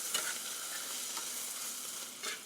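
Butter and flour roux cooking in a CalmDo electric skillet, giving a steady, fairly soft hissing sizzle with a few faint stirring scrapes and no voices.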